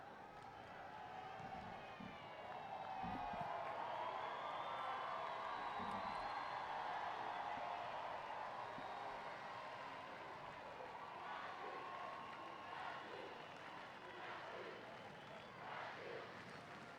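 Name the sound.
crowd cheering at Paralympic football match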